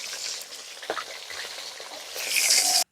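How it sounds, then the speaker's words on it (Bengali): Rohu fish pieces fry in hot oil in a pan, a steady crackling sizzle with a few utensil knocks as pieces are turned, swelling to a louder hiss before cutting off. "মাঝে একদিকে ভাজা হয়ে গেছে অন্যদিকে ভাজার জন্য উঠিয়ে দিচ্ছি"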